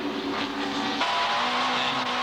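Super Touring race cars at Oran Park, including a bright yellow Alfa Romeo, with engines droning and rising in pitch as they run on the circuit, heard from a distance at moderate volume.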